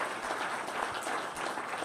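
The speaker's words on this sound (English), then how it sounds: "give an applause for all of our previous speakers that were up here today" An audience claps for earlier speakers at a Las Vegas event, giving a short, dense burst of applause that holds steady throughout.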